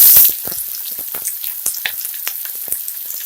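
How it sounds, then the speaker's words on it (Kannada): Onions hitting a pan of frying chana dal for a carrot palya, a loud initial hiss settling into steady crackling sizzle with sharp pops, close by. "ಈಗ ಈರುಳ್ಳಿ ಹಾಕ್ತಾ ಇದ್ದೀನಿ."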